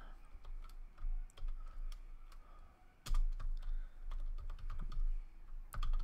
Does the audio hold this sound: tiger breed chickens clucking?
no